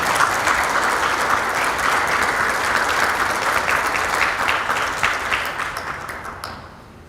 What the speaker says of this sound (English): Let's welcome him with our applause.